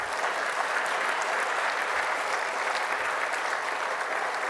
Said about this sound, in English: give all state execs a round of applause